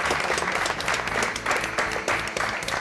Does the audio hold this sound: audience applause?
yes